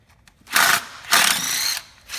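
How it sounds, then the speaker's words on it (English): Small impact tool removing a 7mm coil bolt on a 2008-2014 Ford F-150 5.4L 3V engine: two close, loud bursts of rapid rattling hammering, the second longer, then a brief restart at the end. "I like to use my little impact if I can."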